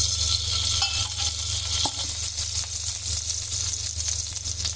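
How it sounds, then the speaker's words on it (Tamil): Spices for tempering crackle and sizzle in hot oil, a steady bright frying hiss with a few sharper pops. "இப்போ தாளிக்கலாம். 1 ஸ்பூன் எண்ணெய் ஊற்றிக்கோங்க."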